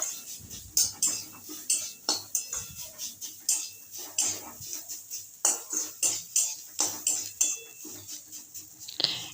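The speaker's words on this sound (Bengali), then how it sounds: "ভালোভাবে কিন্তু নেড়ে নেব আর একবার।" A utensil stirs cooked beetroot in a pan, giving repeated light scraping and clinking strokes in a steady rhythm, close and fairly quiet with no talking.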